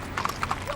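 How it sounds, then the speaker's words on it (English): Horses' hooves clip-clop in short, uneven strikes during a dawn warm-up before a trail ride down Colorado Boulevard, with a brief whinny-like tone near the end. "Riders get their horses warmed up as dawn approaches"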